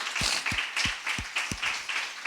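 A church congregation claps in unison for the Lord, seven or eight sharp, evenly spaced claps ringing out loud and close, with no one speaking over them.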